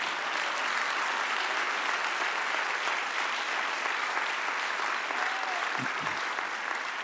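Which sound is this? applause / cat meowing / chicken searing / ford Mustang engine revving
applause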